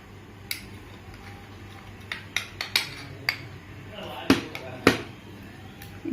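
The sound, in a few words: mixing ghee and powdered sugar for atta biscuits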